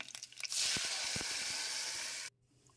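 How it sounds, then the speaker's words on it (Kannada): Ground tomato and onion paste hits a hot pan and sizzles with a loud, steady hiss that cuts off abruptly near the end, preceded by a few soft clatters. "ಈರುಳ್ಳಿ ಮಿಶ್ರಣ ರುಬ್ಬಿರೋದು ಹಾಕ್ಕೊಳ್ತೇನೆ"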